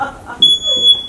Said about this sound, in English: Our biannual fire and safety alarm test.